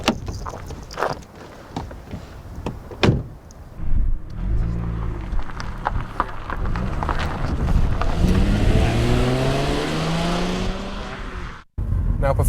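A 2000 Audi A4 estate with a 2.8-litre V6 revs and rises through the gears as it accelerates, with road and wind noise building beneath the climbing engine note.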